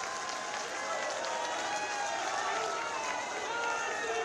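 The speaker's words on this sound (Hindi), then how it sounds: "एक बार जोरदार तालियां बजा के सब स्वागत करिए भाई" Crowd at a political public rally in Haldwani, Nainital, clapping in a dense, continuous wash of applause that stays loud and even throughout without letting up.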